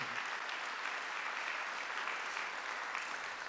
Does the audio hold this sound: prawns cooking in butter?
no